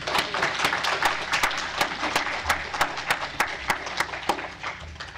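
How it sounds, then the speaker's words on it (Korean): A church congregation claps together for a member, producing a crisp round of applause that settles into rhythmic, evenly spaced claps, moderately loud in a reverberant hall. "하나님께 감사하는 은혜, 영광의 박수를 한번 드립시다"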